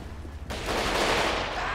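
Gunfire in GTA 5 at a police gang-unit shootout: a dense, loud burst of rapid shots suddenly erupts after a brief quieter moment and keeps rattling without pause.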